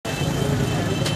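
Busy street traffic in Abbottabad during Ramazan, with passing cars and other vehicles making a steady, fairly loud road rumble throughout the brief moment.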